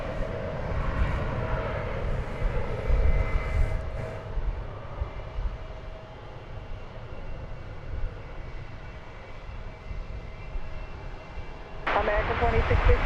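A Spirit Airlines jet takes off at DFW Airport, producing a continuous broad jet-engine roar heard from a distance. The sound holds steady for the whole stretch with slight swells, and a louder burst of noise arrives near the end.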